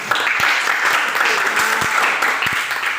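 Classroom students give a round of applause, a loud, steady wash of many hands clapping close by, lasting the whole moment with a few sharper thumps mixed in.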